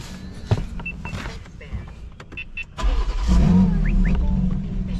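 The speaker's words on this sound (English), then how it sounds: "I want you to start the car up first" A BMW S58/B58 engine, just fitted with new spark plugs, sits quiet under faint background noise, then cranks and catches near the halfway point, settling into a loud, steady close-up idle.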